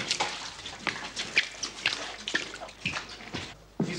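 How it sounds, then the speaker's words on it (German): Flood water being scooped into buckets and cloths wrung out over a drain, giving repeated splashes and trickling water with short irregular sloshes, close and moderately loud. "Die Mädchen schöpfen in die Eimer und die Jungen tauchen die Tücher ein und winden über dem Abfluss aus."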